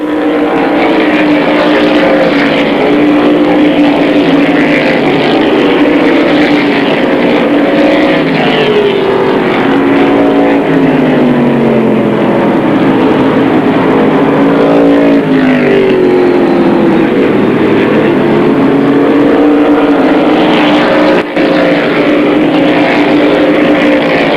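Stock race cars roar around Airborne Raceway during a 1994 weekly event, a loud sustained engine drone that rises and falls as cars jostle for position, heard alone without voices.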